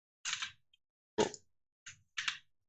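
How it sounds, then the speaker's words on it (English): A few sharp keyboard key presses for a Photoshop shortcut, coming as separate quick clicks in a quiet room with brief pauses between them and no talking. "I'll just hit Control T to free transform"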